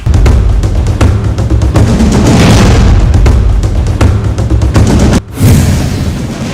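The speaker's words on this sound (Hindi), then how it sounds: "मनकोट और कृष्णा घाटी में गोलाबारी।" Artillery shelling along the ceasefire line in Mankot and Krishna Ghati, a loud, dense barrage of booms and rumbling blasts running almost without pause, briefly cut near the end.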